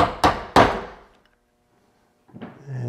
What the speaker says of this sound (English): Just walk the chisel over.